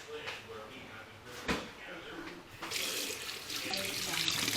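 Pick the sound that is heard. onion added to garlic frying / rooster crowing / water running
water running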